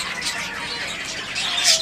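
Pet budgies, zebra finches and Bengalese finches chirp and squawk in a home aviary setup. Their bright, overlapping calls run steadily, rising to a louder burst near the end, with no talking.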